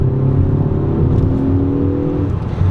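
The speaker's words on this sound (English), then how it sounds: "so you do have a nice little induction sound" A 2018 Ford Focus ST accelerating hard in third gear, its engine and induction note rising steadily in pitch as a loud, close drone heard from inside the cabin.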